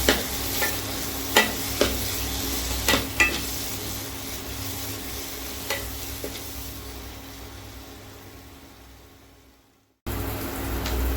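Ground masala paste for fish curry is stirred and sautéed in a pan, with a soft continuous sizzle and several sharp spoon scrapes early on, the sizzle fading away before a brief cut and resuming.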